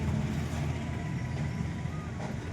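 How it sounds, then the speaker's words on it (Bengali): Road traffic passes on a main road right beside a house: a steady, close low rumble of engines that runs unbroken for the whole stretch. "আমাদের বাড়ির পাশেই হচ্ছে মেন রোড, সেখানে আমার সাউন্ডের সাথে গাড়ির আওয়াজও চলে যাচ্ছে"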